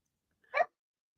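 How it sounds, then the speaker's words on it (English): One short, muffled dog bark sounds indoors, a single brief burst followed by silence. "He's barking at thin air"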